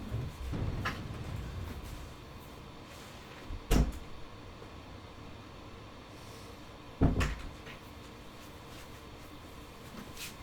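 A house door opens and later closes to let a cat out, two distinct thumps a few seconds apart over a quiet room hum.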